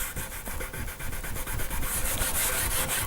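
Rubbing at finger marks on the finished body of a DIY guitar kit: a loud, close, rhythmic rasping rub with fast repeated strokes across the surface, no speech.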